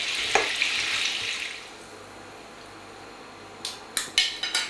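Onions and carrots fry in a pan, a soft continuous sizzle that fades to quiet before a few sharp clatters near the end, close by with no talk.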